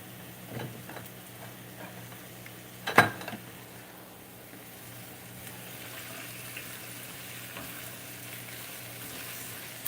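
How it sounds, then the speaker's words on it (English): Food frying in a pan gets a quick stir, a soft steady sizzle underneath with a sharp scrape or clack near the start, then the gentle crackle carries on alone at low volume. "Give that a quick stir"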